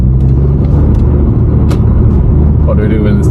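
Audi S3 with a 2.0 TFSI engine driving through a tunnel, a loud, steady low drone and road roar filling the cabin, with people talking over it.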